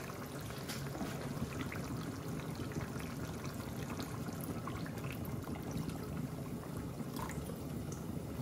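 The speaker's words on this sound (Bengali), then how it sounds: "এদিকে এখন দেখতে পারা মাছের কারির মাঝে ঝোল দিলাম।" Gravy poured into a pan of fish curry, a steady soft liquid trickle running continuously at low, even loudness with no talking.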